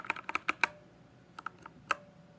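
A modded computer keyboard is typed on softly, with a quick run of crisp clicky keystrokes followed by a short pause and a few more scattered taps, close and quiet with no talking.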